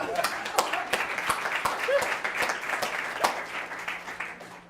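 Audience applause at a geography colloquium for a speaker being introduced, a steady patter of claps of moderate loudness with a few sharper individual claps, mixed with faint murmuring.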